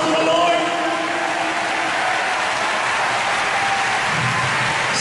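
Church congregation at a night worship service clapping hands together, a sustained, fairly loud wash of applause mixed with lingering music tones and faint voices underneath.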